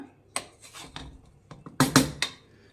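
Stirring drumstick biryani inside a pressure cooker: a few scattered scrapes and clinks of a ladle against the metal pot, with a louder cluster of knocks near the end, no talking.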